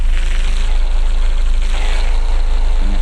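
A car engine runs at a steady loud drone in the Car Parking Multiplayer 2 video game, a continuous low hum with no voices over it.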